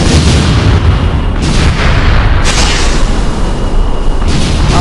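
A missile strikes a building in a flight combat game with A-10 Thunderbolt II and Eurofighter Typhoon jets, producing a loud, sustained booming roar that stays heavy and dense throughout, with no talking.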